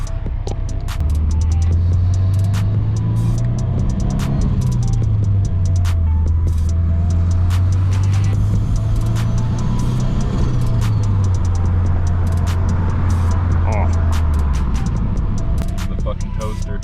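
Subaru BRZ cruising on a highway, a steady droning engine and road hum with a low tone that rises and falls gently as speed shifts, continuous and loud from inside the cabin, with no talk over it.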